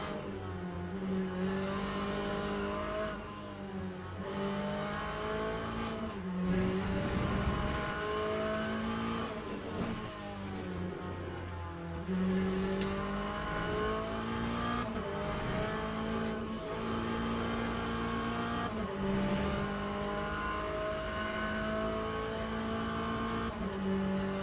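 A race car engine in the Le Mans Ultimate racing simulator roars steadily and loudly throughout, with its pitch climbing and dropping sharply at several gear shifts, including early upshifts.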